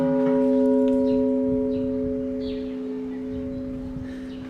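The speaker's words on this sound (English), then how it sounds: "Maybe everyone's gonna look at me now that the bell rang." Large church bell in Luba, Equatorial Guinea, struck once nearby, a loud clear metallic clang with a sustained humming tone that slowly decays over several seconds.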